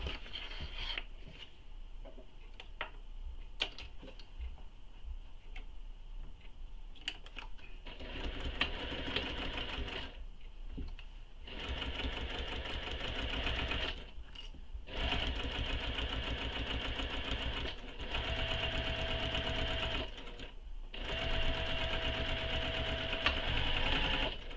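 A sewing machine stitches a long straight edge on a vinyl crossbody bag, running in steady bursts with short pauses between them, close and alone.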